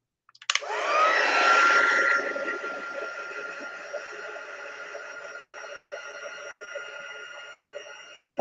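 A hair dryer blows steadily on freshly glued zine pages, loud and close, with a whine that rises at switch-on and then settles into an even roar before cutting in and out in short bursts near the end.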